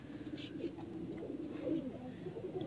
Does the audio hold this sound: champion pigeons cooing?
yes